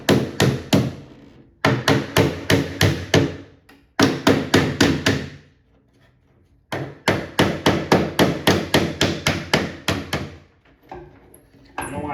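Quick bursts of light metallic tapping on the bolts of a Donkey Kong 3 arcade cabinet during restoration, each run holding roughly eight to ten close, crisp knocks, with short pauses between the runs.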